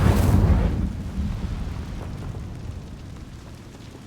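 An Incendio fire spell in Hogwarts Legacy erupts in a loud, roaring whoosh of flame up front, then rumbles and crackles as it fades away steadily.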